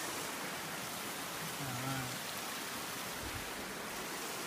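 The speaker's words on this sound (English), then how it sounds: "And another creek up here." The Little North Santiam creek flows steadily outdoors on a mild spring day as a continuous broadband rush of water. A brief low voice is heard midway.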